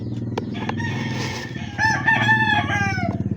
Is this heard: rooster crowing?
yes